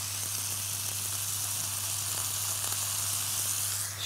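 Onions and garlic frying in a pan with turmeric give a steady, even sizzle, close and moderately loud, with a low constant hum underneath.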